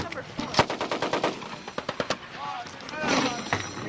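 An M60 machine gun fires on an Army range at Fort Leonard Wood in 1999, rattling out a rapid run of close, loud shots, then a short break and a few more bursts with range chatter in the background.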